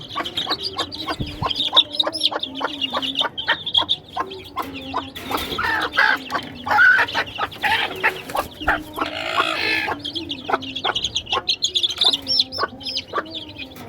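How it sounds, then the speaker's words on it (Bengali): Chickens and young chicks cluck and cheep steadily close by as the chicks are released outdoors, with repeated short clucks and a busier flurry of calls in the middle. "আমরা কিন্তু এখন আমাদের মুরগির বাচ্চাগুলোকে একটু বাইরে ছেড়ে দিব, দেখবো ওরা কি করে"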